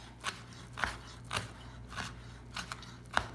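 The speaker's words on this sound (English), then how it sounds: "chop these up" A knife chops scallions on a board, about seven crisp, separate cuts landing at an uneven, unhurried pace over a quiet kitchen background, close by and with no speech.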